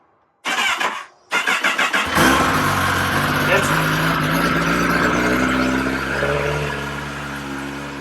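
A Kawasaki ZX10RR superstock motorcycle engine from a 2021 MotoAmerica build cranks in two short bursts, then fires and settles into a loud, close, steady idle with a slight rise and fall.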